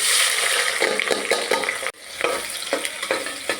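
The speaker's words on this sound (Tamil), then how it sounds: "வெங்காயம் வந்து நல்லா வந்து வதங்கிக்கலாம்" Onions frying in oil and ghee in a cooker with whole spices, making a loud dense sizzle with rhythmic stirring scrapes and a brief dip partway through, close up with no talking.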